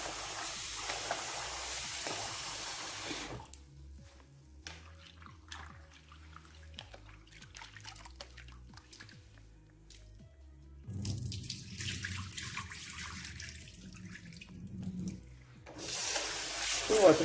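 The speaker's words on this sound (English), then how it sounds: "Rinsing that real quick." Food rinsed under a running kitchen tap while preparing cornmeal with spinach and smoked herring, a steady splashing hiss of water that drops away in the middle and returns, with a person talking briefly.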